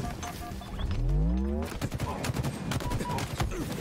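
Gunfire in Halo Infinite: a rumbling burst with a falling whine, then rapid loud automatic shots rattling in quick succession, close and dense, no talking.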